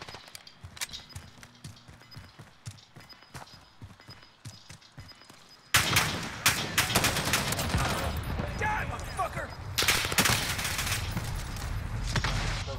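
Gunfire in a Modern Warfare multiplayer match, a string of sharp shots and bursts, quieter at first, then louder and denser battle noise with voices and game chatter under it.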